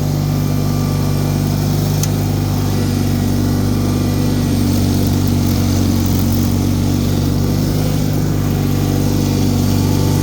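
A Bolens HT23 garden tractor with a snow blower runs at about half RPM through heavy, melting deep snow, giving a loud, steady, unbroken engine drone with no pauses.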